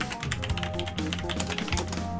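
Rapid keyboard typing on a computer during a game stream, dense irregular clicks running continuously and fairly close, with no voices over them.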